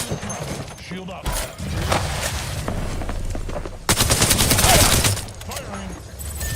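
Rapid gunfire in a shooter game crackles in dense bursts, growing heavier and louder partway through, with game voices talking over the shooting.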